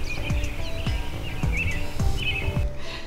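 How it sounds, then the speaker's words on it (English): Birds sing at dawn, with repeated chirps and whistled phrases at close to moderate distance. Thumps and rustling from nearby activity run under them, and nobody speaks. "the birds are singing"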